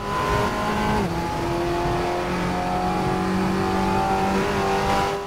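A race car in the RaceRoom racing game accelerates hard out of a corner, its engine rising steadily through the gears in a loud, continuous revving drone with no talk over it.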